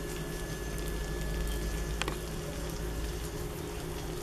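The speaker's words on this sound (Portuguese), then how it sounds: "Vou deixar cozinhar por uns 20, 25 minutos" Lasagna cooking in a frying pan, a steady soft sizzle and bubbling throughout with a faint clink partway through.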